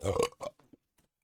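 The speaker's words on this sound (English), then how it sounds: "I just burped right into my mic." A single short burp right into a microphone, close and loud, followed by a brief tail of fainter throaty sounds before silence.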